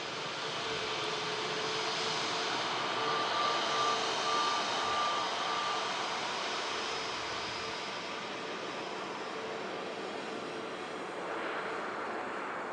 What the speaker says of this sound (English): Let's go Jet2 757 rolling now.